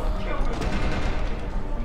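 Rapid gunfire bursts in the video game Deus Ex, a dense, crackling fusillade of shots that fills the short moment, with speech mixed in.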